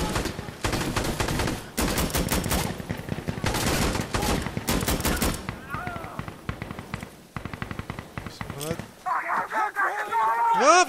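Heavy gunfire in Insurgency Sandstorm, dense bursts of automatic and single shots packed closely together, loud and near, with quieter stretches where someone speaks French.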